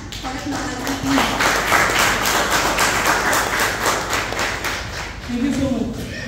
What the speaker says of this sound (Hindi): आप सभी की जोरदार तालियों के साथ